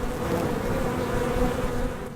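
Dense, continuous buzzing of honeybees swarming around a backyard hive, loud and close with no speech over it.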